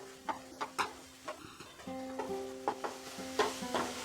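Bengali coconut modak filling sizzles in a pan, with a steady hiss broken by regular scraping stirs of a spoon, close and moderately loud over a faint tonal background.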